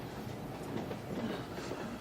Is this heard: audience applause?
no